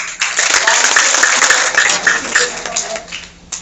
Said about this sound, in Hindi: एक बार चाहूँगा अपलाइनों के लिए तालियां हो जाए